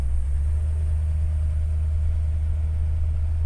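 A 1948 Buick Roadmaster Woodie engine runs steadily while driving, a smooth, low, continuous drone with a constant rumble and no revving, heard close from inside.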